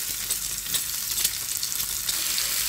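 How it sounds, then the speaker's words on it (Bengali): Eggs frying in oil in a frying pan, a steady close crackling sizzle with faint stirring scrapes, heard alone without talk. "আর সব ডিমগুলো কিন্তু আমি সুন্দর করে ভেজে নেব।"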